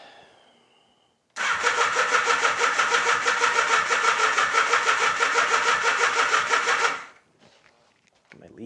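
A Honda Nighthawk motorcycle that has sat unused for four years cranks over on its starter for about six seconds, a loud steady rapid churning rhythm that stops abruptly, with quiet handling noises before and after.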